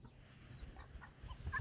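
Silkie chickens in a backyard flock give soft, short clucks, a few scattered calls close by over faint outdoor background noise.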